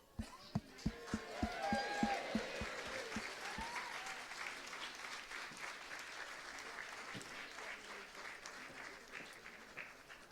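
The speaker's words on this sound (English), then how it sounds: "Round of applause." Applause for newlyweds follows a wedding toast: a few sharp individual claps open, then a room of guests joins in a dense, steady clapping that gradually thins out, with faint cheers and murmuring.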